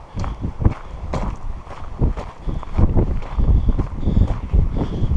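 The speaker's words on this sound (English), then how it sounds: "But the wind is really kicking up" Strong wind gusts across a mountain trail near Flagstaff, Arizona, buffeting the microphone in a continuous loud roar, with faint footstep-like thuds underneath and no talking.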